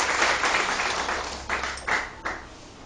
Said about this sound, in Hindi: और तालियां बजाएं